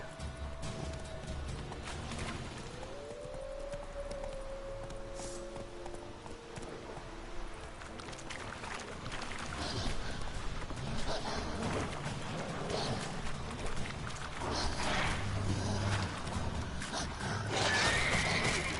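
In The Witcher 3 video game, a horse's hooves clip-clop steadily while it neighs early on, with game sounds and a faint voice mixed in.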